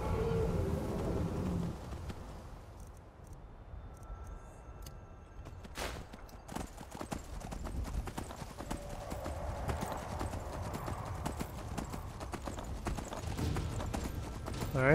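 Armored horse hooves clip-clopping steadily in Skyrim, a continuous rhythmic run of fairly close hoofbeats, with a whinny near the start and game ambience underneath.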